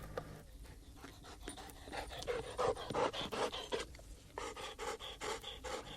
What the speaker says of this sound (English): It's a dog with a kid.